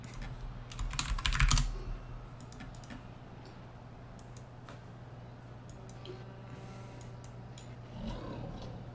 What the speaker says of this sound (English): My super loud keyboard.